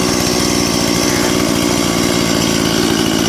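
A Stihl MS180 chainsaw engine runs close and loud with a fast, even two-stroke putter throughout, heard alone.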